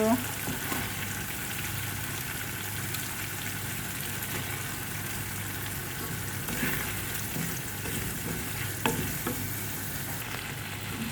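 Dal lentils tossed into spices already fried down in a pan, sizzling steadily and scraped with a spoon in repeated stirring strokes, close and alone throughout.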